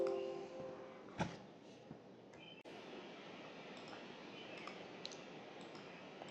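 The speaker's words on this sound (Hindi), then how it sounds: "और शो लिस्ट पर क्लिक करता हूँ" A computer mouse clicks sharply a few times, faint and close, while a Hindi Excel student management spreadsheet is operated, over a low steady room hiss.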